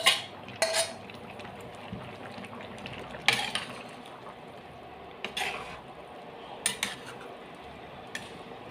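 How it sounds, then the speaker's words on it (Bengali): Fried lentil fritters are stirred into a simmering jackfruit curry in a metal pot. A spoon scrapes and clinks against the pot in several irregular bursts over a soft, continuous background of bubbling and hiss. "বড়াগুলো দিয়ে ভালো করে ঝোলের সঙ্গে মিশিয়ে দিচ্ছি"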